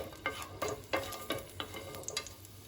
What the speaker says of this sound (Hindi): इसको हम अच्छे से फ्राई कर लेंगे, भून लेंगे।